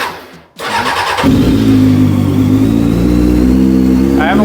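A 2003 Honda CBR F4i sport bike turns over and fires, its engine catching after a brief cranking burst and settling into a loud, steady idle close by, with a short voice heard near the end.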